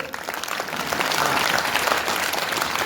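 Audience applauding at a humorous Holi-full-moon religious discourse, a dense continuous burst of clapping from a crowd that swells slightly and holds steady.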